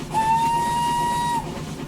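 Steam whistle of a Hudswell Clark contractors tank engine in Train Simulator 2021, one sustained clear tone lasting about a second over a low rumble of the running locomotive.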